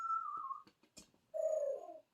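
An African grey parrot imitates a pigeon's coo, giving two sustained, smooth tonal coos with a short pause of faint clicks between them, close and clear with no talking.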